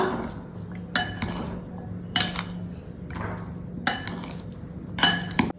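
A weight loss salad is mixed in a bowl, with sharp clinks of a spoon against the dish recurring about every second, separated by quieter rustling.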